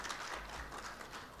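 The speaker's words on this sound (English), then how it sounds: "Please, a round of applause for her." Audience at a school parenting conference applauds in a steady, even wash of clapping, distant and fairly quiet throughout.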